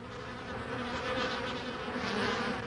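Worker bees fill a hive with a steady, dense buzzing drone that holds at an even loudness throughout, close and continuous with no voices.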